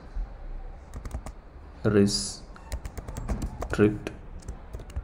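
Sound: typing on a computer keyboard

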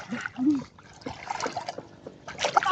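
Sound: water flowing and trickling

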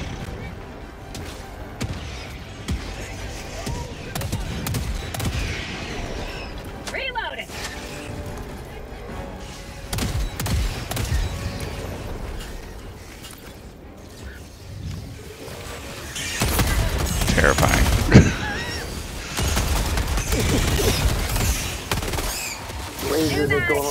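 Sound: sentry turret gunfire in the video game Helldivers 2

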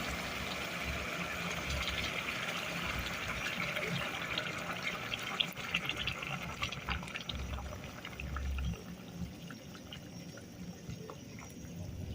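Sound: water poured over rice and bouillon for pilaf

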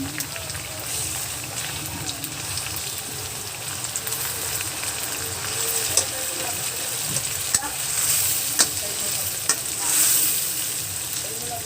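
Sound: shrimp paste (alamang) sautéing in a pan

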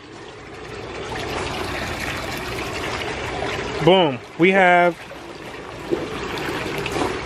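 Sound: water flowing from a pipe into an aquaponics tank

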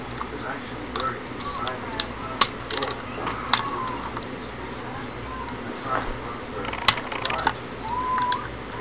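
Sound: 5/16 nut driver loosening alternator bolts

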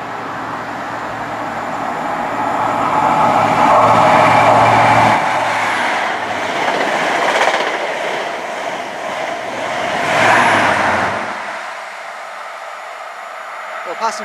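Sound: class 43 HST power cars passing

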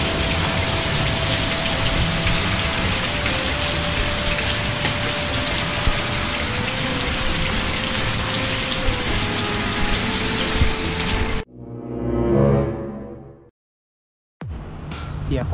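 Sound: heavy downpour rain

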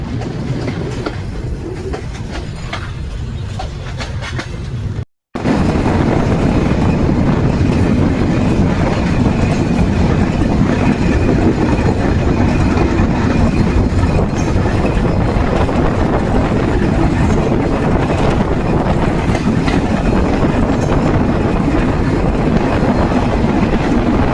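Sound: express train leaving station

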